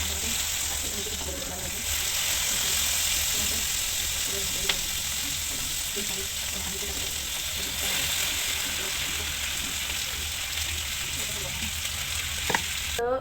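Onion and tomato fry in a pan for a mutton curry, giving a continuous close sizzle with occasional scraping stir sounds and a couple of sharp clinks, no talking.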